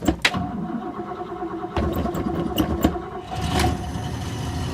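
An Oldsmobile car being started, a starter crank followed by the engine catching and settling into a close, steady rumble with a few sharp clicks and bumps along the way.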